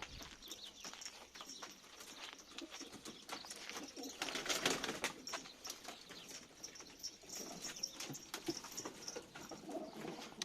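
Pigeons coo and flutter in a busy, continuous mix of bird calls and wing flaps, steady throughout with a louder burst midway.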